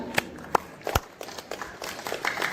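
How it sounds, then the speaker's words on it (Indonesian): Group applause at a meeting, with scattered, uneven hand claps from a small room that rise slightly toward the end, close by and moderately quiet, with no talk over them. "Oke, tepuk tangan untuk kita semua."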